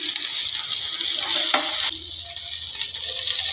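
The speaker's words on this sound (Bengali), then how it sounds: "দুপাশ ভালো করে ভাজতে হবে।" Rui fish paturi wrapped in banana leaf fries in a pan with a steady hiss, broken by a few clattering scrapes of stirring or turning.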